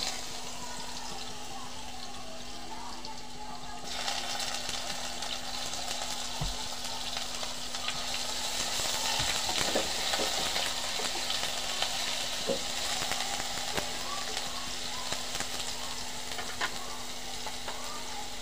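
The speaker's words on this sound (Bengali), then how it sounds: "আমি এখানে 1 চামচ রসুন কুচি, 1 চামচ পেঁয়াজ বাটার নিয়েছি, আমি দিয়ে দিচ্ছি।" Chopped garlic and onion paste fry in a pan for chicken mince filling, giving a soft continuous sizzle that swells after a few seconds, with faint spoon scrapes and a low steady hum beneath, no talking.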